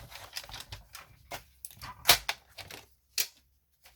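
Paper being cut at a fold while making a bedside lamp, heard as a run of crisp, close snipping cuts with brief pauses between them.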